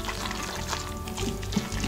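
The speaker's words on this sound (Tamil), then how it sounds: "நம்ம 1/2 கப் அளவு தண்ணி எடுத்து சேர்த்திக்கலாம்" Half a cup of water is poured into rava paniyaram batter in a kitchen, making a brief, close splashing trickle with no talking.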